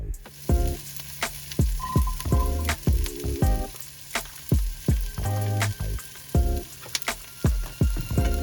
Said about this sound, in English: so we want to saute those down